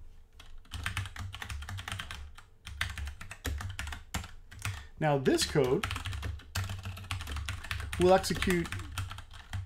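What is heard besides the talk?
typing on a computer keyboard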